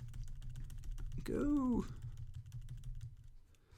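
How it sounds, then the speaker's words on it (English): Rapid keyboard mashing during a platform game with shifting gravity, a dense run of small clicks under a steady low hum, with a short burst of game voice in the middle. "mashing the keyboard"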